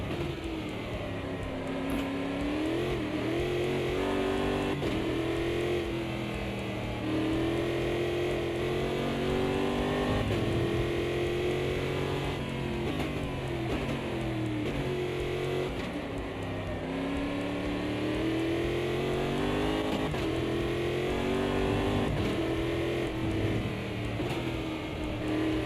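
Race cars massed at a race start in Automobilista 2 on a cold track, engines droning and revving continuously in a dense, loud layered roar with shifting pitch as the pack accelerates.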